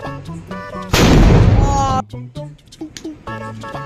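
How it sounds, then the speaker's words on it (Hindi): A large Diwali firecracker bomb goes off with one loud, close, roaring blast lasting about a second. Excited voices talk before and after it. "बम बजाने वाले है ये सबसे बड़ा सुंदर बम, ये वाला, क्योंकि ये बहुत ही तेज बजता है।"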